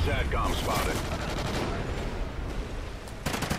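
Rapid automatic gunfire in Call of Duty Ghosts, a close, loud burst of shots at the start and again near the end, with a player's voice in between.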